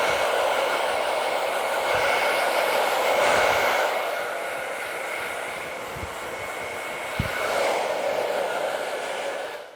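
A hair dryer blows on its cool setting during a scissor haircut in a barbershop, a loud, continuous whooshing whir that shifts slightly in level as it moves, with a few faint clicks and no talking.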